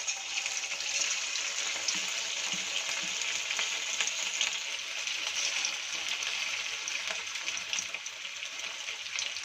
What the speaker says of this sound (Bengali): এবার আমি এক এক করে কিন্তু চিকেনগুলোকে দিতে থাকবো, চিকেনের পিসগুলো দিতে থাকবো, দিয়ে আমি ভালো করে ফ্রাই করে নেব।